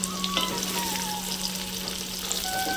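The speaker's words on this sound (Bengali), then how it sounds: "গরম তেলের মধ্যে দিয়ে দেবো আমি চীনা বাদামগুলো ভেজে নেবো আমি" Peanuts frying in hot oil, a steady, close, dense crackling sizzle throughout with a constant low hum underneath and no talking.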